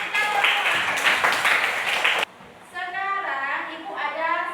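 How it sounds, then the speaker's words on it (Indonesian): Children in a classroom clap together in a brief burst of lively applause, then it stops abruptly and a voice takes over, speaking. "Kasih tepuk tangan dulu dong untuk kita semua."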